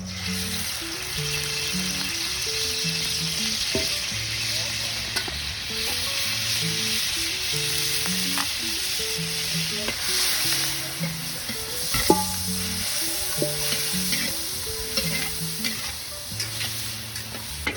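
Beef pieces frying in reused cooking oil, a loud, steady sizzle running throughout with occasional stirring clatter and louder pops, while music plays underneath.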